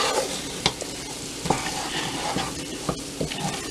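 Okra and shrimp frying in a pan, a steady close sizzle with several sharp clinks of a utensil stirring against the pan, no talking.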